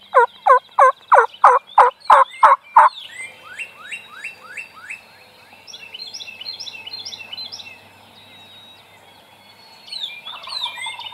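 A wild turkey gobbles in a rapid burst of loud, close rattling calls, followed by quieter chirps and yelps from other birds in open fields at dawn.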